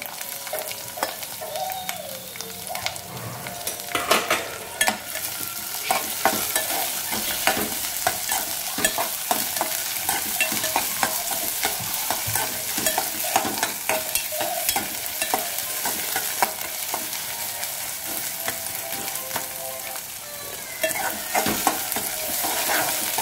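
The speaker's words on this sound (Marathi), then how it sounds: "हा कांदा चांगला लाल होऊन द्यायचा" Chopped onions frying and being stirred into a spice paste for a spicy Maharashtrian prawn curry, a steady close sizzle broken by repeated scraping stir strokes throughout, with no voices.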